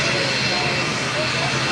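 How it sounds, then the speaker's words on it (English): FedEx ATR turboprop freighter at the Paris Air Show, its engines giving a steady, broadband drone with a faint tonal hum, loud and continuous while a voice talks over it. "FedEx ATR freighter"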